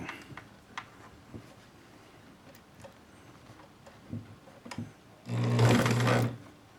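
A Bernina Record 830 sewing machine stitches a zippered pouch in one loud, steady burst of about a second near the end, after quiet fabric handling and a few soft clicks.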